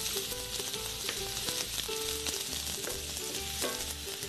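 Onions and garlic sauteing in a hot pan while an asparagus torta is prepared, a steady close sizzle and crackle with faint clinks and scraping on top, no talking.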